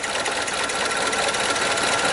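A Chevy Equinox engine runs rough with a steady fluttering, buzzing mechanical chatter under light throttle, close and continuous with no talking.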